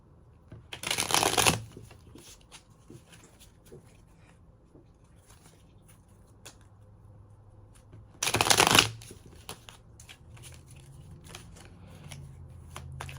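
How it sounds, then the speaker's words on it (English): Two brisk bursts of cards riffling and snapping together, several seconds apart, with quiet rustling and handling in between. "let's get to shuffling"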